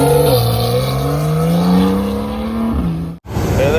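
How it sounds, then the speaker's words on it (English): A Pontiac GTO drives past at a car show, its loud engine note rising and sliding in pitch as it nears and goes by, followed by a brief cut. "Got a GTO heading on by."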